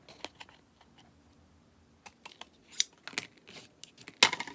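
Scissors snip through a paper Christmas gift tag in short crisp cuts with small handling rustles and clicks between, close and quiet, no talking.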